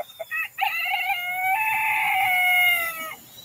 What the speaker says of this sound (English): Y'all hear his little crow?